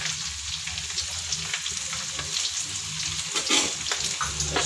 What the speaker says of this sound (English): First you fry the curry leaf. Then drop in the ginger.